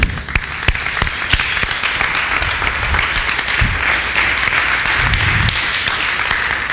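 Congregation in a church service claps loudly and continuously, with sharp individual hand claps popping out of the dense applause and faint low rumbles beneath.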